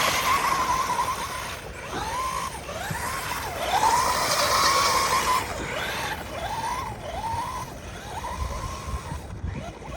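A car drifting and sliding on icy snow, its engine revving up and down in repeated rising and falling surges as the wheels spin, steady and fairly close throughout.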